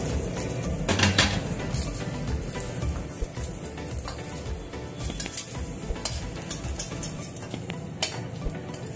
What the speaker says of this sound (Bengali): বেগুনটা লাল করে ভেজে তুলে নেব